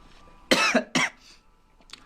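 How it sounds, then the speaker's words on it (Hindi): Two close, loud coughs from a single person, a sharp burst followed quickly by a second, then a faint third catch after a pause, with no talking. "सॉरी दोस्तों खांसी हो गया इसलिए"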